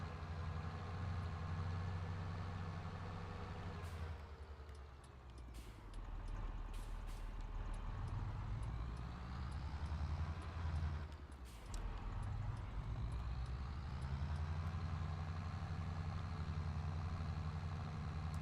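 A tractor engine idles in Farming Simulator 22 with a steady low rumble and a faint hiss, dipping briefly twice before settling back to the same even drone, heard from inside the cab.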